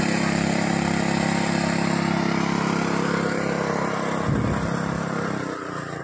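A tractor engine runs steadily in a flooded paddy field during rice transplanting in Konkan, a continuous loud mechanical drone with a brief low thump near the end.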